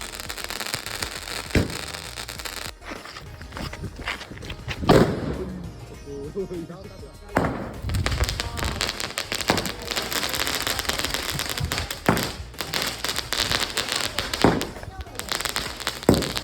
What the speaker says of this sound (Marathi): तर रात्र झाल्यावर मी थोडेफार फटाके आणले, तेच वाजवायला सुरुवात केली.